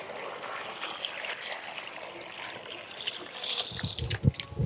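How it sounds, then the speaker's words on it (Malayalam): Water is poured into a cooking pot set on a stove while lime pickle is being made: a steady trickling splash that runs for several seconds, with a few low knocks of the pot near the end. "അപ്പോൾ നമുക്ക് വെള്ളം ഒഴിച്ചു കൊടുക്കാം"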